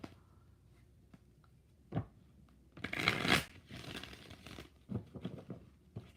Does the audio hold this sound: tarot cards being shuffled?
yes